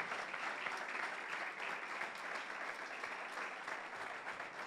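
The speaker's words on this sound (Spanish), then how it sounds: "¡Fuerte ese aplauso!" A church congregation applauds at a Sunday morning service, steady dense clapping that fills the room throughout with no voices on top.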